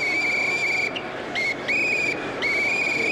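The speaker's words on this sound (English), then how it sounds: "Gotta blow that whistle." A referee's whistle blown during an NFL game sounds in several steady, shrill tones, each held for about a second with short gaps between, over a dense, noisy background roar.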